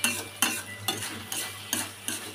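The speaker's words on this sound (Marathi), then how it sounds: "मी मॅश करतो, आपण चांगलं मॅश करून घ्यायचं आहे." Mashing food in a pan for egg bhurji gives a steady run of about six rhythmic scraping strokes over a faint sizzle, up close with no voices.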